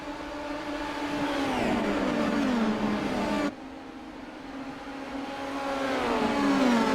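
Race cars pulling away together from a green-flag start, a dense wash of engines climbing in pitch and holding loud, cutting briefly quieter midway before building again.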